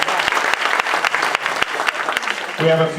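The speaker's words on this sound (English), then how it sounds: "Give her a round of cheer, please." An audience at a school welcome-back address breaks into steady, close applause with scattered cheers, clapping continuously for several seconds with a voice rising near the end.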